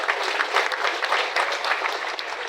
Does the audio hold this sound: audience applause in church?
yes